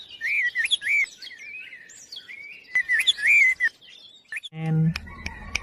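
Small birds chirp in repeated high, quick tweets and trills, loud and close, with short pauses between bursts and a low call near the end.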